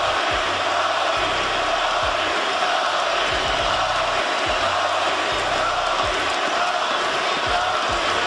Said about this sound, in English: the crowd chanted, "Kobe!"